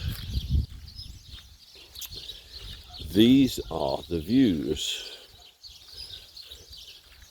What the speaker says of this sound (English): Hopefully you can hear the bird song as well, because it's absolutely fantastic.